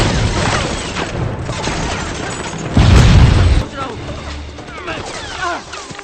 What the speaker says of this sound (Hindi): हम पर गोलियां चल रही हैं।